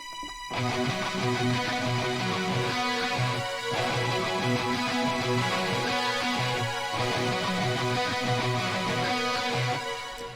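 Loud, dense distorted guitars and pounding drums play a driving, heavy odd-time riff with irregular, stop-start accents throughout.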